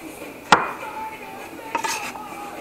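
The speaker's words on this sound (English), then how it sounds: "Just cut up your potatoes" A knife cuts through potatoes on a board for rosemary roasted potatoes: one sharp, close chop, then a short cluster of quicker cuts near the end, over faint room hum with no talk.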